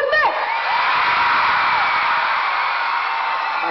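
Concert crowd of teen fans cheering, whooping and shouting, a loud sustained roar that swells after a brief opening call and holds steady throughout.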